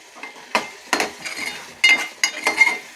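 Chicken for a gongura curry fries in a pan while a utensil stirs it, giving a handful of sharp scraping clinks over a soft sizzle, close and fairly quiet with no talk.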